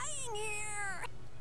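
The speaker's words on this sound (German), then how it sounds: "Ah, eine Katze nach der anderen." A single cat meow in the video game Tales of Vesperia, a short clear cry with a falling then rising pitch over a faint low background hum.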